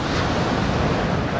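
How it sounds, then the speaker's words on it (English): Ocean waves wash steadily as a continuous broadband roar, loud and close with some wind buffeting, heard at the surface during a dive trip in Bali. "Just a little bit of waves, nothing really serious"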